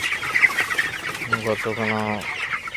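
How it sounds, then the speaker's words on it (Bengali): Broiler chickens in a hot, stuffy shed make repeated close clucks and drawn-out, strained calls, several birds overlapping against a low steady background. "এই গরমের মধ্যে মুরগিগুলা হিট স্ট্রোক করতেছে"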